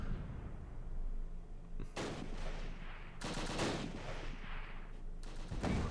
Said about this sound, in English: So mortar versus mortar fire is always fun.